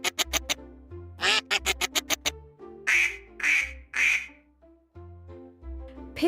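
A duck quacks loudly and repeatedly in rapid bursts, then gives several longer harsh squawks, close and alone, as a fox attacks it.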